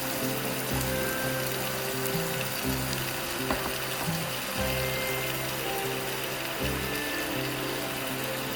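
Pork slices sizzle steadily in a pan as ginger sauce is poured in, the frying hiss continuous and close with low bubbling pulses beneath.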